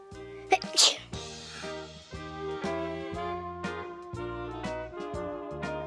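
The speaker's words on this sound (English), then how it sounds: "The soap suds made her sneeze." A cartoon character gives one quick sneeze set off by soap suds while washing a dust cloth in a bowl of soapy water, followed by cheerful music with plucked notes continuing alone afterward.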